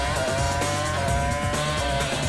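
A 2003 Formula 1 car driven by Ralf Schumacher, tyres locking under braking: a dense, continuous high screech of rubber layered over engine whine, loud and sustained throughout.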